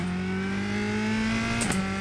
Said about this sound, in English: The noise of the engine, ooh, it's just crisp, raspy, alive.